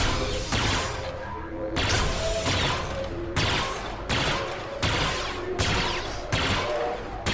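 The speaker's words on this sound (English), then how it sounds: "Boba Fett tags him with laser shots." Boba Fett fires a rapid series of laser blasts at Yoda in Star Wars Battlefront II, loud repeated bursts in a steady rhythm over dense game noise and clashing effects.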